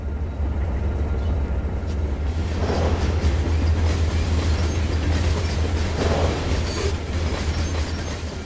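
A freight train rumbles steadily past with a low, continuous roar, faint wheel squeals rising twice over the constant rolling noise.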